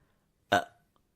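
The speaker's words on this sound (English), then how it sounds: "You think I can't burp when I'm not high?" A single close, loud burp lasting about a quarter second, followed by quiet room tone and a faint click.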